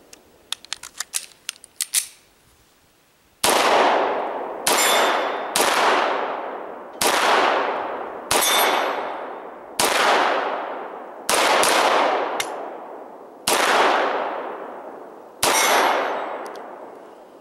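A stainless Beretta 92 FS Inox pistol is fired in a slow, evenly spaced series of about ten loud, sharp shots, each ringing out with a long echoing decay, after some metallic handling clicks at the start.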